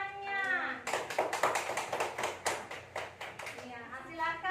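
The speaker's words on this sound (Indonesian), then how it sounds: "tepuk tangan dulu untuk temannya" Schoolchildren in a classroom clapping for a classmate, a burst of quick, rhythmic hand claps starting after a moment and continuing steadily, with voices heard before and after the clapping.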